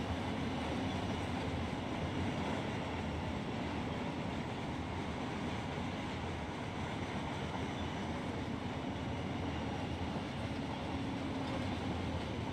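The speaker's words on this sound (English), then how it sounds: "That's a long train." In Run 8 Train Simulator, a long freight train rolls past near the Barstow hump yard, a steady, unbroken rumble of wheels and cars that holds constant throughout.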